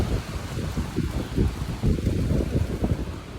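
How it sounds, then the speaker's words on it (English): Wind gusts along a hiking trail in El Yunque rainforest, Puerto Rico. A steady, loud, rumbling roar buffets the microphone with low, uneven surges and no voices. "I love the wind element of this trail."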